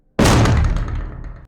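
A hostel room door is kicked by a constable, a single heavy booming impact with a short resonant decay, loud and isolated.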